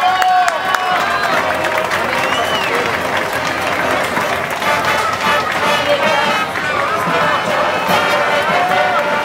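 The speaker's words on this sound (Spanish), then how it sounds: "Les damos un fuerte aplauso." Loud, dense applause and cheering from a large street crowd at a marching band parade during an international band festival in Cholula, Mexico, welcoming a band from Medellín, Colombia; steady and sustained throughout.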